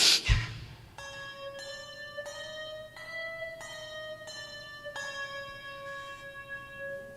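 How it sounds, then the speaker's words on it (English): Handbells ring one after another in a smooth, continuous sequence, each clear tone overlapping the next, after a brief knock at the start. "an essential skill of handbell ringing is to know how to weave"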